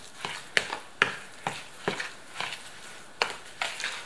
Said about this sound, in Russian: Перемешиваем и еще добавим манки.